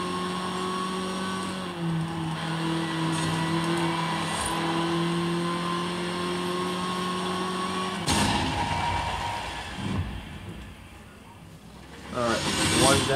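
A Lotus car's engine in Forza Horizon 5 drones steadily with a whining tone that shifts pitch, followed by a rougher burst of engine noise and rising revs near the end.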